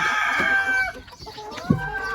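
Chickens cluck and squawk close by on a small egg-laying farm, with a sharp squawk near the end over a steady bed of fowl chatter.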